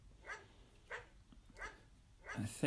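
Dog barking in the computer game Phantasmagoria: three short, faint barks at a regular pace, then a louder yip at the end, over quiet background.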